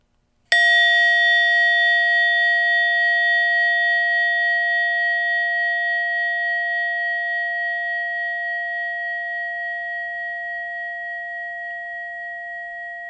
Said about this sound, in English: Now in a moment, you will hear a bell or a chime